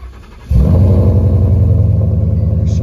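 A Whipple-supercharged Mustang engine fires up for the first time after a fuel system install, catching with a sudden loud burst and settling into a deep, throbbing idle close by.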